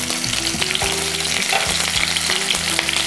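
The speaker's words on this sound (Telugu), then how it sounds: "2 ఫోర్కుల సాయంతో కానీ లేదా ఇలా 2 గరిటెల సాయంతో కానీ చుట్టూ తిప్పుతూ మిర్చిల్ని మనం వేయించుకుందాం" Potato-stuffed capsicums frying in a pan while being turned with forks or ladles: loud, steady sizzling with several clinks and scrapes of the utensils, no talking.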